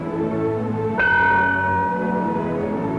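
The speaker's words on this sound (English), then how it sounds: "Sound the bell once." A ship's bell aboard a sailing vessel is struck once, a single bright clang that rings on and slowly fades over a low background hum, with no voices.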